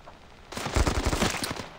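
Gunfire in the mobile shooter Standoff 2, a loud rapid burst of automatic shots that starts abruptly after a quiet half second and keeps rattling to the end.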